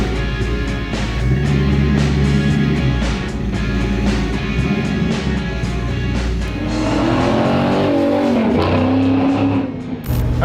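A custom slammed Chevy C10 pickup drives along with a loud, continuous engine drone whose pitch rises and falls as it accelerates and shifts, heard close and steady throughout without speech.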